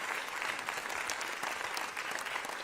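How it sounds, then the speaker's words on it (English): A crowd at a New York governor's announcement applauds steadily, a dense wash of clapping hands that holds at an even level throughout with no voices standing out. "Let's give him a round of applause, Mario Salento."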